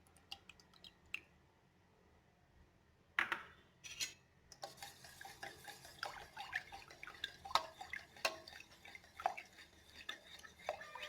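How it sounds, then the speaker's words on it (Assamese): A spoon stirs yogurt into cooled milk in a metal bowl, giving soft scraping clinks and wet squishy taps in an irregular rhythm, close and fairly quiet after a near-silent start. "এতিয়া মই ইয়াত ৰাখি থোৱা দৈখিনি মিলাই দিম"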